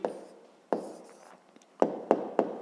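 A pen scratches on paper as a math answer is written out during a fifth-grade problem solution: quiet, close strokes in short bursts, with a longer pause midway and then three quick marks.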